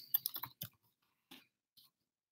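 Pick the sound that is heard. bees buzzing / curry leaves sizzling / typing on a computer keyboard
typing on a computer keyboard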